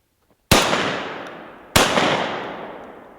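Gunshots at a shooting range in the piney woods of Middle Georgia: two loud, sharp reports a little over a second apart, each trailing off in a long echoing decay, then the start of a third. No talking.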